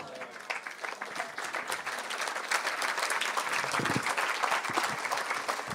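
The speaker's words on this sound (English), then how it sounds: "You see how the children are clapping so enthusiastically?" Children clapping enthusiastically at an evening kirtan gathering, dense continuous applause that swells slightly over several seconds, close and lively.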